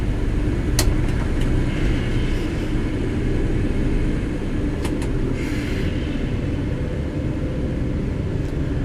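A loud, constant truck engine drone in American Truck Simulator rumbles throughout, steady and close, with a few faint clicks over it and no speech.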